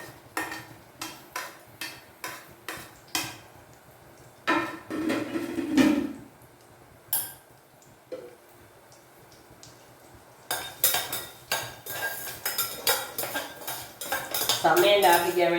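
Coconut pieces being roasted in a pan for oats payasam, stirred with a metal spoon in quick bursts of scraping and clinking, close and fairly loud, with brief pauses between rounds.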